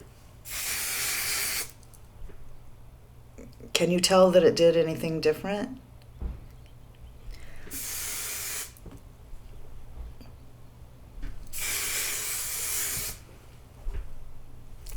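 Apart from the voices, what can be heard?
hair spray being sprayed onto hair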